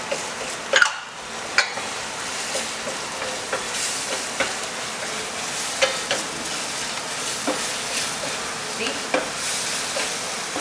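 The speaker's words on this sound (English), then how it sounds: "Of course, we are now going to put in the garlic." Garlic frying in hot oil, a steady close crackle and hiss broken by repeated scrapes and taps as it is stirred around the pan, with one brief spoken word near the start.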